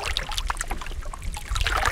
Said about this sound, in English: now we've got this water sound